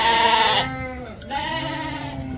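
Near, wavering bleats come from young lambs in a mixed flock of about a hundred ewe and ram lambs still nursing, two long calls separated by a short dip, with more bleating behind.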